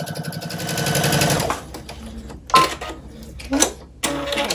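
Sewing machine stitching a flat felled seam with a loud, close, rapid mechanical whirring that runs, pauses briefly, then resumes in short bursts.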